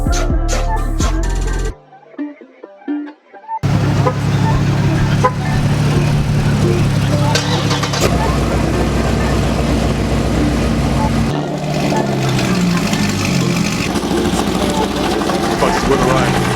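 A car engine rumbles loudly, revving and idling with a deep steady drone after a brief quiet gap near the start.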